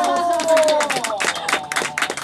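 Audience applause welcoming sumo wrestlers at a playful cat-themed shamisen sumo tournament, a burst of clapping and cheering rising under an excited voice and continuing in uneven waves.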